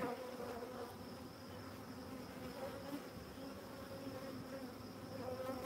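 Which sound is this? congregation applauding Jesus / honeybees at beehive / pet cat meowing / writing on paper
honeybees at beehive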